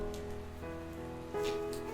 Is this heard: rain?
yes